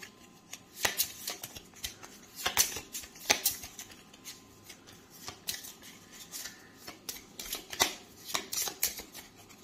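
Event cards for This War of Mine, a board game, shuffled by hand: a run of crisp riffling and snapping bursts at an uneven rhythm, close and fairly quiet, no talking.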